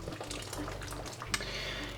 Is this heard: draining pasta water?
yes